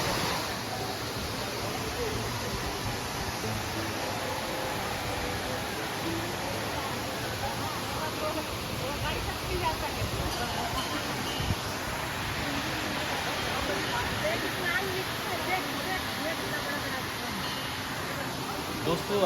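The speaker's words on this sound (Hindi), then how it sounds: "आपने सुनी इस झरने की कलकल की आवाज़, इस जलप्रपात की।" A waterfall's constant roaring rush at Ghatarani Falls fills the air, with faint crowd voices mixed into the background.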